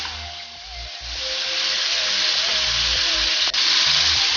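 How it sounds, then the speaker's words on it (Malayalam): Chicken pieces frying in hot oil for a chicken karahi, a strong steady sizzling hiss that builds and holds close up, with faint low clatter underneath and no voices. "നമ്മൾ ആദ്യം ചിക്കൻ ഇട്ടിട്ട് നന്നായിട്ട് അതിൻ്റെ കളറൊക്കെ മാറി വരുന്നവരെ അതൊന്ന് ഫ്രൈ ആക്കി എടുക്കണം."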